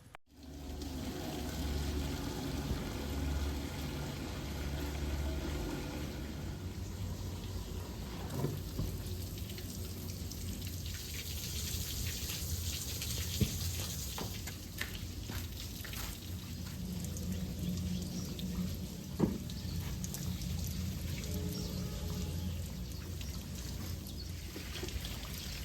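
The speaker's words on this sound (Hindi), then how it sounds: "नेबर के टैंकी से पानी वेस्ट हो रहा था, तो वहीं से मैंने थोड़ा बाल्टी लगाकर पानी कलेक्ट कर लिया" Water from a neighbour's overflowing tank pours steadily into a bucket, a continuous loud splashing rush lasting throughout with a few brief knocks.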